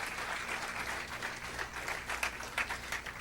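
A church congregation applauds steadily throughout, a dense wash of clapping at moderate volume with no speech over it.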